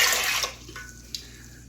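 Warm yeast liquid poured into a bread maker pan, a brief splashing gush for about half a second, then fading to faint drips.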